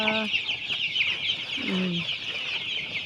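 Young broiler chicks, a pen of about a thousand birds between eight and forty-five days old, cluck and cheep steadily nearby, with a constant high chirping chorus and a few louder calls standing out.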